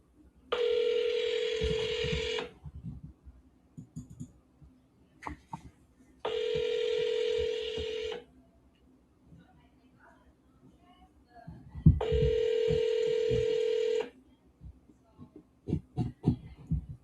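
A phone places an outgoing call, with three evenly spaced long ringback tones about two seconds each, repeating over a low background hum with scattered faint clicks and noises.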